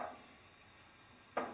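A wok (kadhai) is set down on a gas stove in a home kitchen, giving a single faint metallic clunk near the end against a quiet background.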